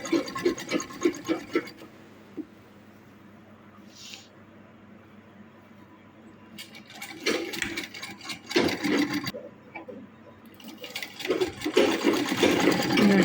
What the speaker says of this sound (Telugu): దీని మీద డబుల్ స్టిచ్ చేసుకుంటూ